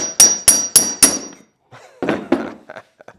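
Metal bushings are hammered out of a lawn mower wheel: four sharp, loud ringing hammer strikes in quick succession, followed by a pause and then several softer taps and knocks.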